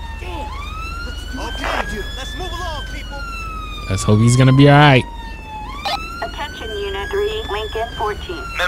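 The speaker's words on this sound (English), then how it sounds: "Why does this guy have his siren on the whole time?" A police car siren wails continuously in GTA 5 with a British patrol mod, rising and falling tones sweeping through the whole stretch, joined by a louder horn blast midway, while someone talks over it.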